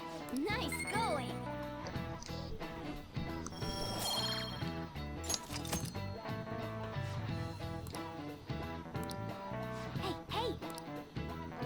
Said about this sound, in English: That's my phone.